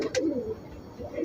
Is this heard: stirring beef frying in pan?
no